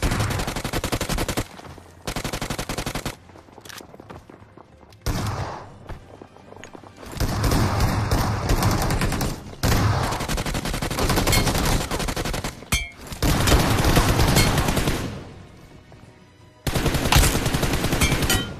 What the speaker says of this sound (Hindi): स्कूल अपार्टमेंट से फायरिंग की साउंड आ रही है